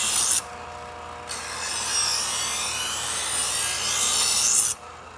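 A kitchen knife is drawn steadily through the built-in groove of a knife sharpener, giving a continuous close-up grinding rasp of steel on abrasive that swells and eases over a few seconds of slow strokes, with short gaps at the start and end.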